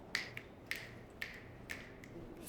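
Finger snaps in a self-affirmation routine, five sharp, evenly spaced snaps close up in a quiet room.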